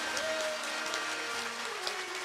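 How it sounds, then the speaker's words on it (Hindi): A crowd at a Shrimad Bhagavat Katha devotional gathering on Krishna's wedding gives a steady wash of applause, even and unbroken throughout, with faint tonal sounds in the background. "जोरदार ताली बजा दीजिए।"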